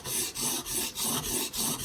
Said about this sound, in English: I could tell by the sound that I was grinding pretty hard into it